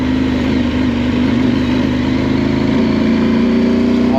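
A 2023 KTM 890 Adventure R motorcycle running close by, a loud, steady engine drone with a continuous low hum that holds an even pitch throughout, with no voices.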